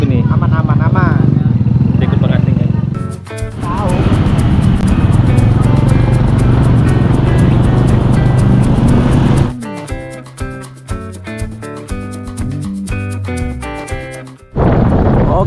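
Loud, continuous engine roar of a motorcycle in motion with heavy wind noise, changing pitch as it rides, and speech mixed in at times.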